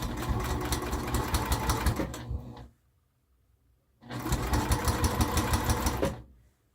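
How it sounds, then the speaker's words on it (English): A sewing machine stitches fabric in two steady runs of fast, even needle chatter, each about two seconds long, separated by a short silent pause. "Just keep sewing, just keep sewing."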